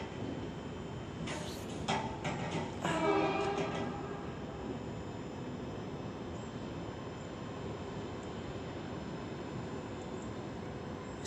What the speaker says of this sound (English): There's quite a few fair trains here, to be honest.